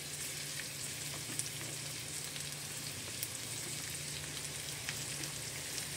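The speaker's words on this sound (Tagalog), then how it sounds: "Okay, lalagay ko na yung bawang." Garlic sizzling and frying in a pan as the base for chicken adobo, a steady close crackle with scattered pops running through the whole stretch, with no talk over it.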